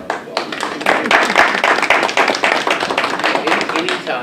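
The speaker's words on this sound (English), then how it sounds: "Give yourself a round of applause." An indoor audience at a Local Development Council recognition ceremony breaks into dense, lively hand clapping that swells and then tapers, with voices mixed in beneath it.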